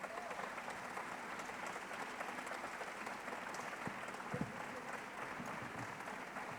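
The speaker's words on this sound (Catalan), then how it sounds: "Sisplau, un fort aplaudiment per ells." Audience applauding the Orquestra de Cambra de Vic at a classical concert evening, a sustained wash of many hands clapping, fairly soft and distant, steady throughout with no clear voices.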